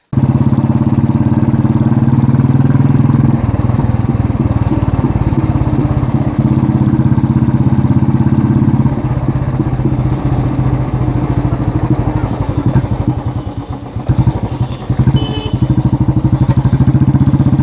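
A 2013 Royal Enfield Bullet Electra 350 motorcycle engine running loudly up close, a deep steady thumping idle with rattling vibration and clatter, briefly rising and dipping in revs near the end.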